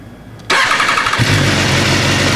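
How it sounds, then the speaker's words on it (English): A BMW S1000RR motorcycle engine cranks briefly and fires, catching into a loud, close, steady idle that settles and holds to the end. "What I'm going to do for you now is start the bike."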